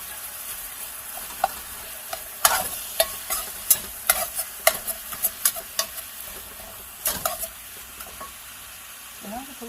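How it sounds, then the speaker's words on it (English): Ground meat and green pepper fry in a pan with a steady low sizzle, while a utensil stirs and scrapes, giving a run of sharp clinks and taps in the middle, close up. "I'm just going to let this cook for a few minutes till all the meat gets good and brown"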